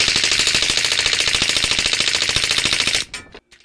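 A suppressed MP5 SD submachine gun fires a long full-auto burst of rapid, evenly spaced muffled shots. The burst is loud and close, stops abruptly after about three seconds, and is followed by a few faint mechanical clicks.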